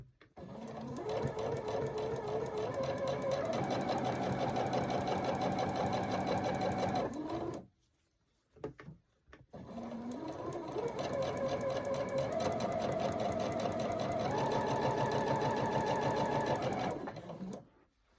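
A sewing machine chain-pieces quilt seams of 2.5-inch squares, its motor whirring and needle clattering in two long steady runs with a short pause between, close and even, with no talking.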